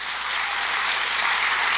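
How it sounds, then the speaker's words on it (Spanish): An audience applauds to welcome Brisa, a newly arrived girl at a children's home. The clapping is steady, dense and loud throughout. "Un aplauso para Brisa."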